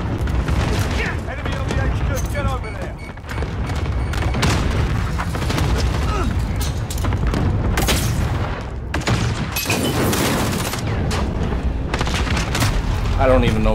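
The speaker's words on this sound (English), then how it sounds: "Enemy cluster strike incoming." Cluster strike explosions in Call of Duty Modern Warfare, a video game, land as a string of loud booms mixed with gunfire, packed closely together over a steady roar of battle.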